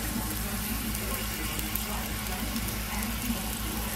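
Taco shell frying in hot oil, a steady close crackling sizzle with a low bubbling rumble underneath, continuous and even throughout.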